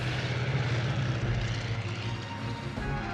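Propeller passenger plane flying overhead, its engine a steady droning hum with a strong low throb held at an even level throughout.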